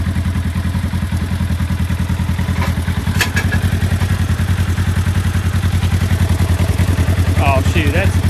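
Polaris RZR side-by-side loaded with weight plates on the back, its engine droning loud and close with a steady low throb and mechanical clatter, throttle rising toward the end as a person briefly shouts.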